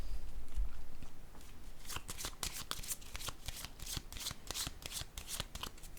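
Tarot cards handled on a table and set down, a quick run of crisp, papery flicks and taps, close and fairly loud, following a brief soft rustle, with no talking.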